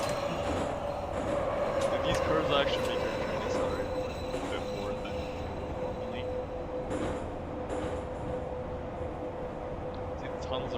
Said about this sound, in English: These curves actually make your train accelerate a bit more than normally.